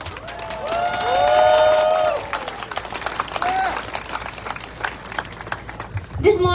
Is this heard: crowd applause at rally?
yes